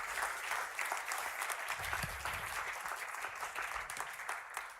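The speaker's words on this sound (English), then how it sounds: "Can we get a round of applause for the judges?" Audience at a Paris startup pitch competition grand final applauding the judges, sustained dense clapping of a sizable crowd, steady and moderately loud throughout.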